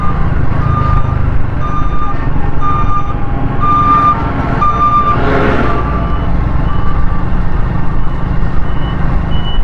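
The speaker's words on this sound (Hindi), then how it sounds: "ये रोड कारपेटिंग हो रही है भाई" Intermittent reversing beeps from a truck repeat steadily over loud, rumbling heavy traffic and engine noise during road carpeting work near the Quaidabad bridge on the Malir Expressway; no one speaks.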